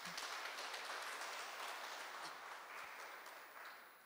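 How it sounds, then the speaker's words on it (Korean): An audience at a theatre awards ceremony applauds as committee members are introduced, a continuous, distant-sounding patter of many hands that slowly fades, heard alone without talk. "박수 부탁드립니다."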